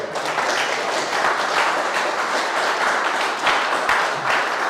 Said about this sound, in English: Put a round of applause for this.